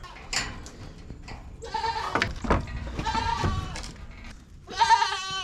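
Goats on a farm bleat loudly nearby, several overlapping wavering calls through the clip with a strong burst at the end, over faint outdoor background.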